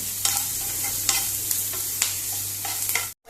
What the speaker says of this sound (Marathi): आतां ही मातशी फ्राय करुया।